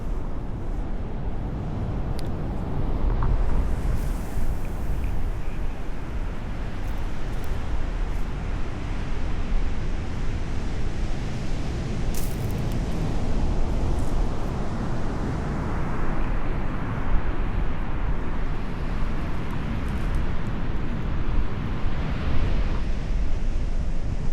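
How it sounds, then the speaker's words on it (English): Strong, cold wind buffets the microphone on a beach in Corolla, a continuous roaring rush with surf murmuring underneath and no voices. "that wind makes it even colder"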